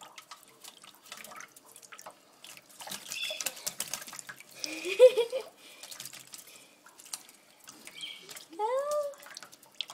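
A rainbow lorikeet splashes while bathing in water, giving scattered small drips and splashes, with soft bird chirps and a quiet voice talking now and then.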